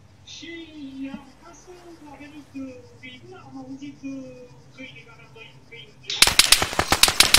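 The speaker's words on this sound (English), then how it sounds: "Taking fire again." Video-game machine gun fire from attacking control towers: a player talks over quiet game ambience, then a sudden close, loud burst of rapid automatic shots fills the final second or so.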